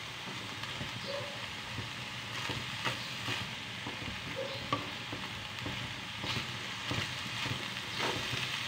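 Ground meat sizzles in a frying pan while being stirred, a steady close crackle with occasional scraping knocks of the utensil and no voices.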